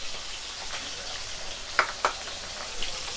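Parshe fish fry in hot oil in a pan, giving a low steady sizzle with a couple of sharper crackles and pops partway through, quiet and close.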